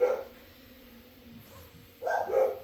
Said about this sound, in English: Mailman's already been here, so I don't know why they're barking